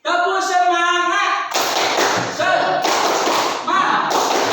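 Schoolchildren performing a rhythmic 'tepuk semangat' clapping chant in a classroom, a chorus of voices broken by sharp bursts of group claps and taps, loud and close.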